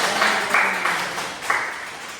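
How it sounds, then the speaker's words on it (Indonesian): A class of children applauds in a short, dense burst of clapping, fairly close, fading gradually over about two seconds. "tepuk tangan dulu untuk mereka"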